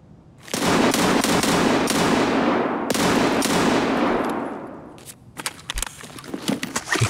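Rapid automatic gunfire in the shooter game Escape From Tarkov, with two long dense bursts followed by scattered single shots, loud and close.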